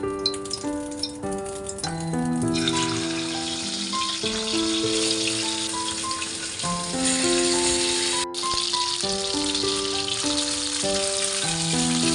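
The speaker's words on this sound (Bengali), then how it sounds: "এখন এই মাছগুলোকে আমি তুলে নিচ্ছি, তারপর তেলে একটু ভেজে নেব।" Pieces of hilsa fish fry in hot oil for ilish biryani, a loud and continuous crackling sizzle with background music playing throughout.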